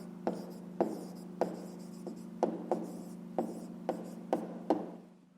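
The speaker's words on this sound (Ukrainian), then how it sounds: "пишемо відповідь" Pen strokes scratch out a handwritten answer to a fifth-grade arithmetic problem: about ten short, evenly spaced scribbles over a steady low hum, close and moderately loud, with no talking.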